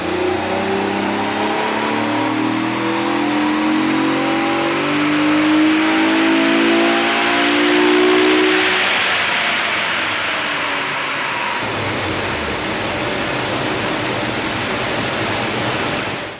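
Modified Holden SV6 or Ford XR6 with full exhaust and tune on dyno rollers, engine revving up steadily under load into a loud roaring peak, then dropping to a rushing high-rpm drone with roller noise.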